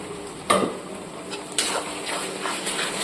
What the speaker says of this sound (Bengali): আদা রসুন কাঁচা লঙ্কা পেস্ট। এবার এটাকে খুব সুন্দরভাবে কষিয়ে নেব।